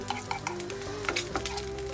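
Oil sizzles and crackles in a wok while fried rice with salted fish is being prepared, with steady frying noise and scattered scraping stirs close by.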